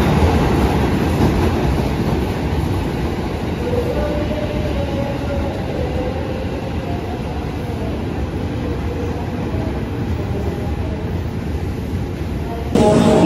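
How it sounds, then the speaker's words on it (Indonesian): KRL electric commuter train bound for Jakarta Kota at a station platform, a loud continuous rumble of rolling rail cars that holds steady throughout with no talking. "Di depan saya ini ada KRL tujuan Jakarta Kota"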